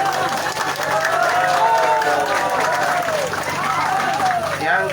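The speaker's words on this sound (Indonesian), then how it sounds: "Tepuk tangan." Applause from a gathering at a regional parliament (DPRD) meeting in Bangkalan, Madura, steady clapping that fills the clip, with a crowd murmur and voices heard underneath.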